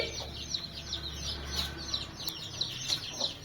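A mother hen clucks repeatedly in short, steady bursts, close by, with faint background noise and no talking.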